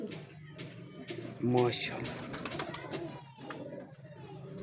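Pigeons of a big breeder strain coo softly close by, one louder throaty coo rising above the rest, while someone talks over them.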